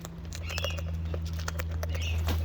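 Birds feasting chirp and tweet in quick, scattered bursts close by, with light pattering and a steady low hum underneath.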